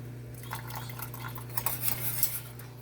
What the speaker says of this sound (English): So we're going to continue to stir